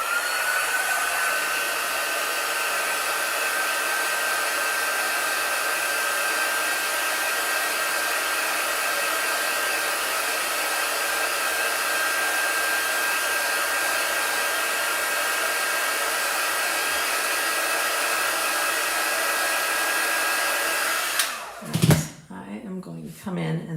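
A hair dryer blows steadily on chalk paint, a loud constant whooshing roar that runs for over twenty seconds before switching off near the end with a few handling knocks.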